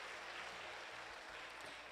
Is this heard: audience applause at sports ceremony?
yes